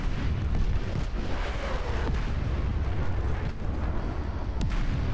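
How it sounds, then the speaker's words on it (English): Warship missile launches and explosions in the naval mode of War Thunder Mobile, a Groznyy-class ship firing three missiles at once, heard as a dense, continuous rumble of booms and blasts with sharp cracks throughout, loud and close. "All the missiles, 3 missiles at once."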